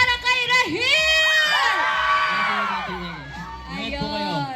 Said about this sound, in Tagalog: Isa pang hiyawan para kay Rahil!